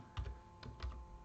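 Quiet typing on a computer keyboard during a web coding lesson on box sizing and block and inline elements, a few soft clustered keystrokes over a steady faint hum.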